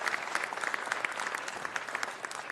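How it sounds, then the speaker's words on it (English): Audience at a city council meeting clapping, dense brisk applause from a moderate-sized crowd, even and sustained, heard from a little distance with no speech over it. "Let's give that a round of applause."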